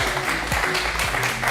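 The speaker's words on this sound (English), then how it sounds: "Let's give him a round of applause." Applause from a small group during a live painting stream, a steady dense wash of clapping heard up close, with faint voices and tonal background sound running underneath.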